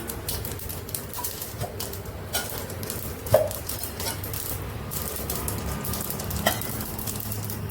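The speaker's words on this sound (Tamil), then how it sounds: "எண்ணெய் சூடாயிடுச்சு. கடுகு, ஜீரகம் போடலாம், வறுபடட்டும்." Mustard seeds and cumin frying in hot oil for tempering a buttermilk curry: a steady, crackling sizzle throughout with occasional sharp pops, one loud near the middle, and no talking.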